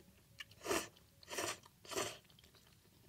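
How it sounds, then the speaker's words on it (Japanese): Close mouth sounds of someone chewing thick, chewy nabeyaki udon noodles, three distinct bursts spaced roughly evenly apart with quiet between them and no talking. "ちょっと麺も食べてみるよ。"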